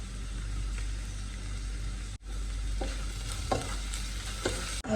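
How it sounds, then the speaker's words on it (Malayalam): Vegetables for chattichor, an Onam sadya dish, fry in a pan, making a steady soft sizzle with a few scraping stirs near the end and no voices. "വെജിറ്റബിൾസൊക്കെ ഒരു മിനിറ്റ് നന്നായിട്ടൊന്ന് അങ്ങനെ ജസ്റ്റ് ഫ്രൈ ആയി വന്നിട്ടുണ്ട്"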